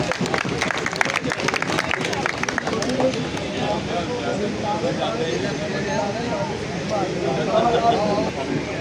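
An audience applauding at a champion party for players. Scattered clapping is strongest early on, under loud crowd chatter and a voice speaking over a microphone.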